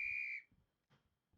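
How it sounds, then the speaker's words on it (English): A single sharp whistle blast in GTA V roleplay, shrill and steady for under half a second, then cut off, followed by a few soft muffled thuds and faint background noise. "Blow the whistle."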